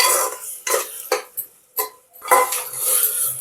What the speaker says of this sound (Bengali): এবার এটাকে কিছুক্ষণ একটু নাড়াচাড়া করে